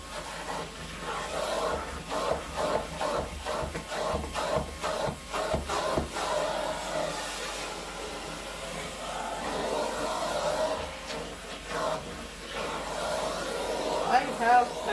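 A Vacmaster shop vacuum with a crevice tool works at a low, steady level, its broad airy rush wavering with scraping and shuffling as the nozzle moves over surfaces, with no talking.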